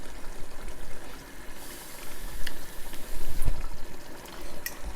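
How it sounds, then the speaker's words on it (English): A little water runs into a jar holding thick tomato sauce, a close, steady trickle and splash with a few faint clinks against the glass. "what you can do is just get a little bit of water in that jar of the tomato sauce"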